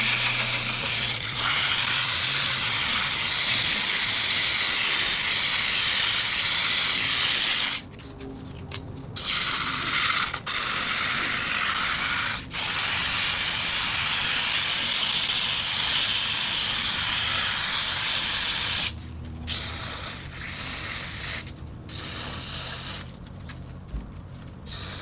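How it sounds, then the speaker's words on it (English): Sandpaper of 80 grit presses against a wooden parting tool handle spinning on a wood lathe in reverse at about 450 rpm, giving a loud, steady hiss that drops briefly twice. "Let's put some sandpaper on it and we'll just call her good from there."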